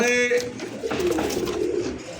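Pigeons coo and flutter restlessly up close in a pigeon market, with someone talking over the birds throughout.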